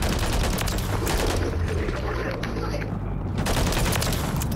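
Rapid automatic fire from the Holger in Modern Warfare 3, with dense bursts of shots at close range and brief pauses between them, partly under a player's talk.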